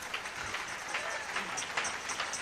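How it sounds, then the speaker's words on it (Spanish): A church congregation claps together in a steady, rustling patter that sounds fairly distant and stays even from start to finish. "Denle un aplauso al Señor"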